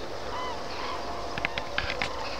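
A large flock of roughly two hundred cranes or geese calls in flight above a garden, their honking cries faint and distant over steady background noise, with a few louder calls clustering near the end.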